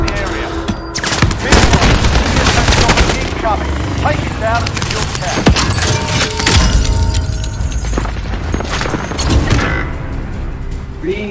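Dense gunfire in Call of Duty Warzone, with rapid automatic bursts and sharp shots piling up over several seconds. A voice talks and calls out under and between the shots.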